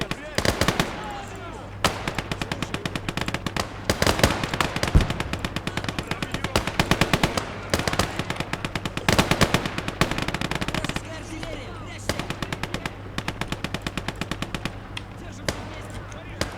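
Maxim machine guns fire in sustained, rapid, loud bursts in the Finland versus USSR battle of the World War II game Gates of Hell, with brief pauses between the long rattling strings of shots.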